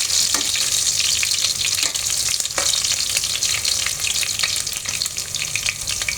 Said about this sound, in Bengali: এখানে আমি পেঁয়াজ বেরেস্তা করে নিচ্ছি